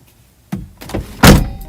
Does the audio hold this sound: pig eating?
no